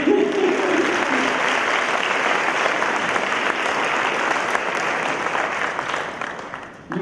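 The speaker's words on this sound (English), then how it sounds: "You owe yourself an applause." An audience at the Shortridge IB High School 2019 graduation applauds the graduates, a dense, steady wash of clapping that holds for about seven seconds before tapering off, with a few voices mixed in.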